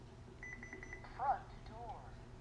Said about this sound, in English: you can hear the panel literally said front door, along with that beep beep standard chime that we selected